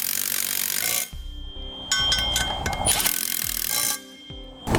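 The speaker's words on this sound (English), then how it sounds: "Tighten these down a little bit." Nylon lock nuts are tightened on Air Lift LoadLifter 5000 helper springs: bursts of ratcheting and metallic scraping from a wrench come and go nearby, separated by brief quieter gaps.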